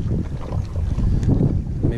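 Wind rumbles and buffets against the microphone in a steady, low roar, with gusty swells throughout, as a small storm approaches.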